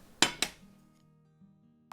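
A ceramic plate clinks twice in quick succession as cooked food is set on it in a Korean home kitchen, two bright close knocks followed by a faint steady hum and no talk.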